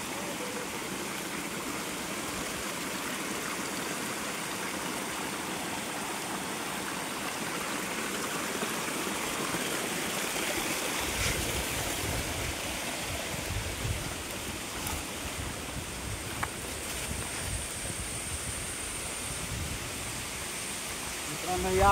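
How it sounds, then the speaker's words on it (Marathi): A large, tall waterfall in the Sahyadri hills near Virar roars as a constant broadband wash of falling water, growing fuller and deeper after the midpoint, with no voices over it. "मित्रांनो या तुम्हाला धबधबा दाखवतोय मी सर्वात मोठा हा बघा"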